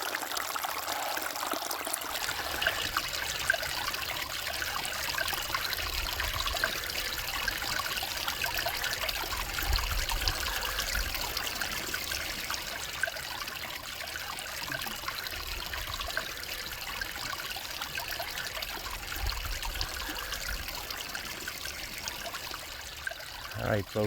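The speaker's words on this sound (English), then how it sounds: "here's another one of those natural springs that we saw on the way in" Natural spring water trickling and splashing steadily along a backpacking trail, a close, continuous wash of bright babbling with faint movement underneath and no clear speech.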